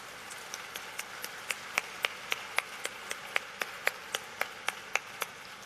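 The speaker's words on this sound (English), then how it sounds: "Let's give them a great hand of applause." An audience at a World Meeting of Families panel claps in unison, a steady beat of crisp, sharp claps at a brisk, even tempo over a faint background hush.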